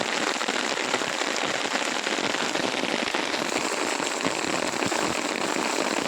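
Heavy monsoon rain pours down during the Shravan season, a dense, steady hiss of drops hitting the ground and surfaces all around, loud and unbroken throughout.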